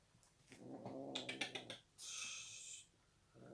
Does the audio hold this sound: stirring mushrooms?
no